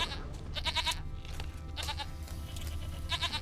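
Goat bleating in The Witcher 3 in three short, pulsing bursts spaced across the clip, each a wavering, quavering cry, set over a steady low ambient rumble with no talking.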